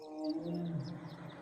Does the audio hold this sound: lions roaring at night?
yes